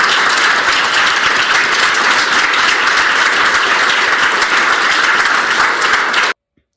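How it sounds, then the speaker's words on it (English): An audience gives a special guest a warm round of applause, steady and dense for about six seconds before cutting off abruptly into silence. "Let's give a warm round of applause to our special guest today"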